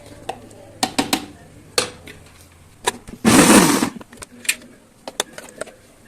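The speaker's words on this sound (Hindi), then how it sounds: "बस इसी तरीके से हमें ये सारी दाल पीसनी है।" A blender grinds soaked lentils into a thick batter, giving one loud, dense whirring burst of under a second amid scattered clinks and knocks of the jar and spoon.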